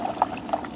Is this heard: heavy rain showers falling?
no